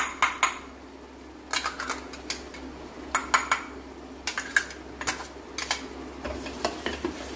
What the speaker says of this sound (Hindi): मसाले ने जो है तेल छोड़ दिया है साइड में इसमें मैं अब डाल दूंगी ये टमाटर